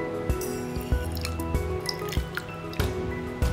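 Water is poured and dripped onto sabja seeds set to soak for kulukki sarbath, giving close, wet trickling and squishing sounds with repeated light drips and taps.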